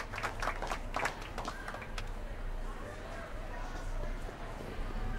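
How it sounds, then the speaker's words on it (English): A crowd in the video game Back to the Future: Episode 5 claps in a scattered burst that settles into a soft, steady patter of applause, fairly faint and distant. "How about a round of applause just for the heck of it?"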